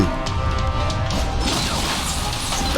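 A loud, dense burst of crashing noise from an explosion in the action game Killer Is Dead, rumbling and sustained for a few seconds with a sharper surge near the end.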